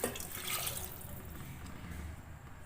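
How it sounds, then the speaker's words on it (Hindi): Water pours steadily into a cooking pot of rinsed sama rice, a broad continuous splashing rush that stays fairly loud for under three seconds with no talking. "और उसके बाद ऐड करूँगी अपना पानी इसमें,"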